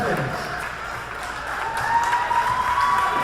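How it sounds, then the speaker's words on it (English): A high school girls' basketball semifinal crowd for Middle Township claps steadily in the closing seconds, a broad wash of applause from the stands with faint voices mixed in. "you can hear the Middle Township faithful rising and clapping as they anticipate a resounding victory"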